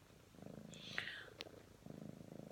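A pet cat purring softly and close by, a steady rhythmic low rumble in two stretches separated by a short pause with faint rustling.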